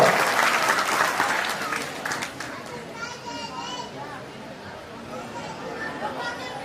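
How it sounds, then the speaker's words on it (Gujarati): A crowd claps loudly at an Ahir Vaniya family reunion gathering in Surat, the applause strongest at first and then thinning, mixed with children's voices and chatter underneath. "તાળીઓના ગણગણા બજાવો"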